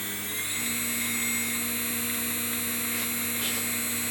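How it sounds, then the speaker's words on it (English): A CNC router spindle runs steadily, its high-pitched whine and electrical hum holding constant and close throughout, with no voices. "Let's start the router head up, or the spindle."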